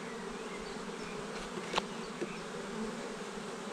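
Honeybees hum steadily and close by while a hive is opened for inspection, forming a dense continuous buzz with a few brief knocks and scrapes from frames being handled.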